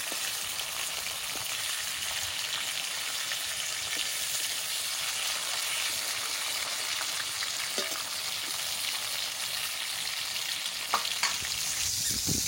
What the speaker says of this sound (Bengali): মাছ নাড়াচ্ছি, বেশি মানে ভাজবো না, হালকা করে একটু ভাজা করে দেবো।